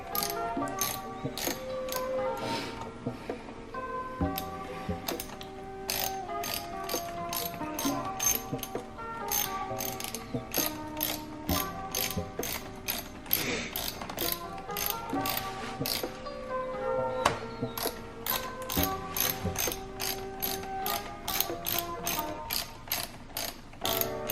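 A ratchet tightens bolts during an intake install on a Dodge Charger Scat Pack, clicking in rapid, regular bursts close by, pausing briefly and then resuming throughout.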